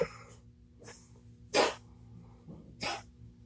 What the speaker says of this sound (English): I have no idea what they're barking at now.